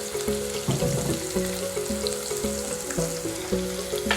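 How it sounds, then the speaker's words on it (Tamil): Chopped onion with crushed ginger and garlic frying in hot oil in a kadai, giving a steady close sizzle throughout, with faint rhythmic stirring scrapes beneath and no voices. "கடாயில் எண்ணெய் ஊற்றிக்கலாம். வெங்காயம் இருக்குல்ல, வெங்காயம் சேர்த்துக்கலாம். இஞ்சி பூண்டை தட்டி வச்சுருந்ததை சேர்த்துக்கலாம்."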